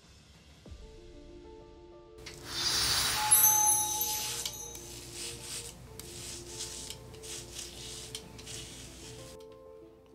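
A Leaf Shave razor scraping over a head during a shave, heard as close, raspy rubbing strokes that swell and continue over a faint steady hum.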